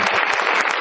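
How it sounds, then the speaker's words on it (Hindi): Audience at a stage event clapping loudly and continuously, a dense, steady burst of applause with no voices over it. "जोरदार तालियां"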